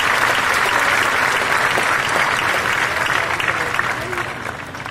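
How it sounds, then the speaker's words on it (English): A high school graduation crowd gives sustained, loud applause that fills the hall, a dense continuous wash of clapping from many people that tapers off at the end. "Please give these individuals a round of applause."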